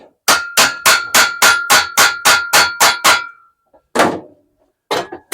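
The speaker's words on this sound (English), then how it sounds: "Hammer and dolly" Rapid, evenly spaced metallic blows from a hammer and dolly on a sheet-metal tank ring out about ten times in a row, then after a pause come two more strikes, loud and close.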